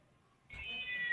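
A house cat lets out a single drawn-out meow partway through, starting abruptly after a quiet moment and holding steady, faint and somewhat distant in the room.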